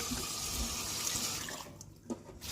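Rinse water splashes and gushes steadily as it is tipped out of a container in a home kitchen, close and moderately quiet, then tapers off into a few drips.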